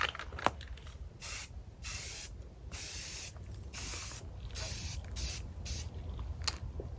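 Spray primer is applied onto a steel desk and shelf frame in repeated hissing bursts of about half a second each, close and fairly loud, with short gaps between passes.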